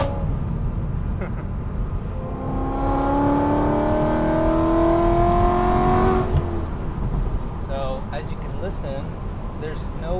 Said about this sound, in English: it's just a perfect smooth exhaust note with nice high-pitched F1 sound